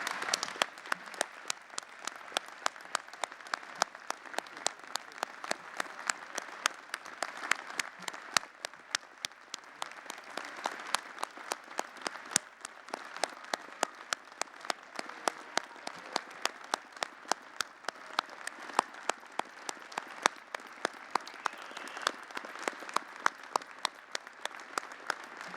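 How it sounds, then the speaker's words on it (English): A large audience at a University of Alberta fall convocation applauds graduates' families and supporters, sustained dense clapping with distinct claps near the front, holding steady at full strength throughout without talk. "give a huge round of applause to the people who supported you throughout it all"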